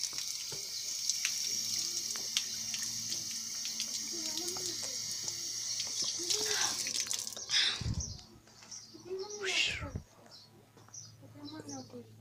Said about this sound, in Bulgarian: Това е чешмата с водата.